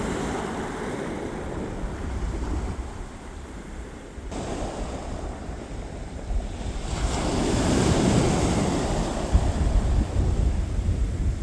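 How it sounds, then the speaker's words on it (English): Sea waves rolling onto a beach at Seaham, County Durham as the tide comes in fast, a steady broad surf wash with wind buffeting the microphone, swelling louder toward the end. "See how fast this tide is coming in."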